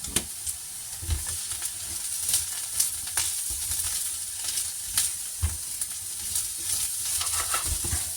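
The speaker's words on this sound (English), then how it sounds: "shallow fry, stir fry them until they are golden brown in color" Aubergines shallow frying in oil in a pan for yaki udon, a steady close sizzle broken by repeated scrapes and knocks as they are stir-fried.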